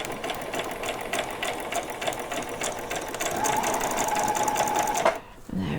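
A sewing machine runs steadily while stitching a seam on a Halloween dress, its motor whirring continuously up close, then stops abruptly near the end.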